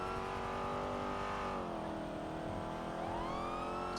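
Lamborghini Aventador supercar driving in the NoPixel video game, its engine a steady loud drone with shifting pitch, dipping briefly then rising again in a continuous run.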